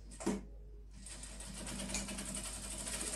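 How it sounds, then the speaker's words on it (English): A sewing machine runs steadily after a brief pause, its fast, even mechanical whir and clatter continuing up close. "So after holding it down, we just sew on a straight line."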